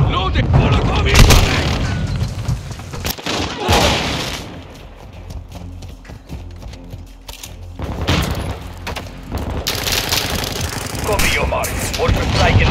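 Bursts of automatic gunfire and booming blasts rattle through a Call of Duty Modern Warfare 2 Hardpoint match on Shoot House, loud and dense, easing briefly before heavy firing resumes, with voice callouts mixed in.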